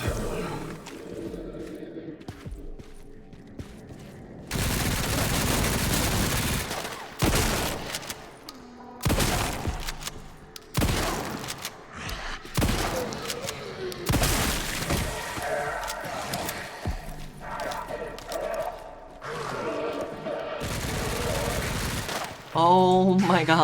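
Bursts of gunfire from the video game Resident Evil 9, loud and recurring in heavy clusters across the scene, mixed with crashing game action and a voice reacting.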